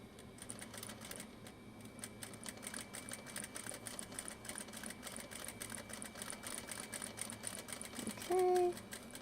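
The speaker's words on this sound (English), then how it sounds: "Yeah, I can pretty much sew fairly carefree." A sewing machine stitches along steadily without pins, a continuous fast mechanical patter running close by throughout, with a brief electronic beep near the end.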